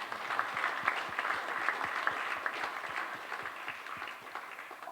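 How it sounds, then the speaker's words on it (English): An audience at a live sailing chat breaks into applause, a steady mass of claps with distinct individual hand strikes standing out, holding at moderate level throughout with no voices over it. "I think that deserves a round of applause."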